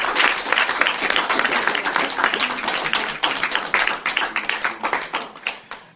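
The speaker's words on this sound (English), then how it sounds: "let's give a nice round of applause for Dave." A workshop audience applauds Dave with dense, energetic clapping that stays loud and full for several seconds before thinning out and fading toward the end.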